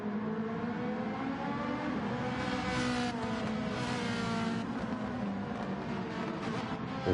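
GT3 race cars in a racing game sweep through the final corners on the last sector of a lap, with a continuous wailing engine note rising and falling as the cars brake and accelerate, fairly close and steady.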